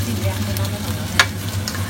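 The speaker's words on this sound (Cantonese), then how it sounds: "咁你而家煎雞翼啦，係咪？" Chicken wings fry in a pan with a steady, close sizzle throughout, broken by one brief clatter partway through.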